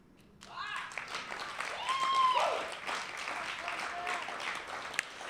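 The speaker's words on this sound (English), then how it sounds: "Thank you guys again for clapping." An audience claps steadily for several seconds after a spoken-word poetry reading, the applause fairly soft and even, with faint voices mixed in.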